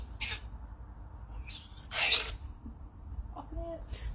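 A single short, sharp sneeze bursts out quietly in an indoor room, surrounded by faint rustling and low background noise.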